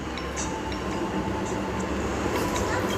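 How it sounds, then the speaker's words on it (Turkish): A metro train rumbles past with a steady, dense roar and faint metallic clinks, heard continuously throughout. "Tabi metro geçmese olmaz."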